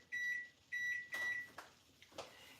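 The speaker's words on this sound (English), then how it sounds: "I'll set the timer on my microwave" A home microwave oven beeps as its timer is set: two sustained electronic tones followed by a shorter third beep, faint and clean in a quiet kitchen, then a few soft button clicks.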